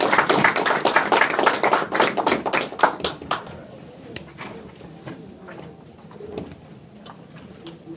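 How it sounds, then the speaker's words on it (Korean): An audience at a weekend lecture gives a loud round of applause to welcome the speaker. The clapping thins into scattered claps, then a quiet room with a few stray taps. "아무쪼록 우리 강사님을 매실 적에 좀 뜨겁게 좀 박수로 좀 맞이해 주시기 바랍니다"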